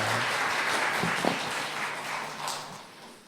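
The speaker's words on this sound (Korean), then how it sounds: "우리의 찬양과 하나님께 영광의 박수 올려드립니다." Congregation applauding during Sunday church worship, a broad wash of clapping that swells and then thins out while a low sustained tone lingers underneath.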